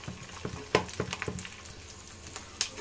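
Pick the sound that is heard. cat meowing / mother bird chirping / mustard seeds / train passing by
mustard seeds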